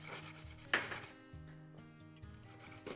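A knife chops cherry tomatoes on a board for a black rice salad, giving a few crisp cuts in a loose rhythm, close up and alone.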